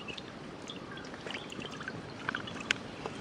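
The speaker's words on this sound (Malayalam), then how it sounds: "ചട്ടി ചൂടായിട്ടുണ്ട്. ഇനി ഓയിൽ ഒഴിക്കാം." Oil poured into a hot cooking pan before frying chicken, a faint, soft liquid trickle with a few light sizzling ticks near the end, quiet and close.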